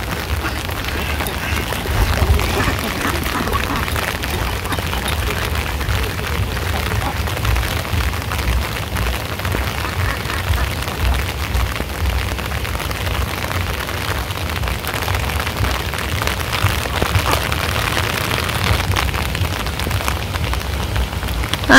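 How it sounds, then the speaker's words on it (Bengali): Rain pours steadily over a Bangladeshi village, a dense, close hiss of drops on surfaces that stays even and loud throughout with no breaks. "তো এই যে আবারও বৃষ্টি নেমে পড়লো।"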